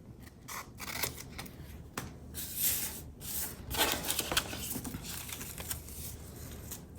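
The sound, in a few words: cutting paper journal cards with scissors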